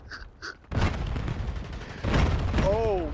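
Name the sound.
enemy sniper gunfire in a video game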